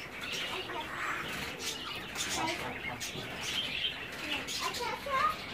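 Pet birds and pigeons call in a spacious aviary, with busy chirps and coos forming a continuous, moderately loud chorus throughout, while faint voices murmur in the background.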